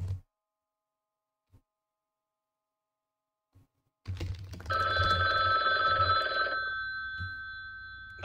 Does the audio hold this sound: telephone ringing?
yes